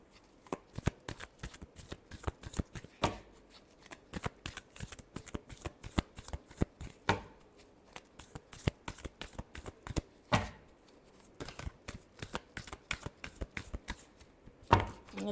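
Tarot cards are shuffled close up in a long run of quick, crisp riffling flutters with brief pauses between bursts, and no talking.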